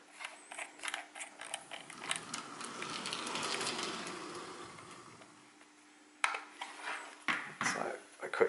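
A Lenz DCC model locomotive motor on track whirs up quickly, rising to a mechanical hum with faint gear clatter that then fades, followed by a few sharp clicks and knocks near the end.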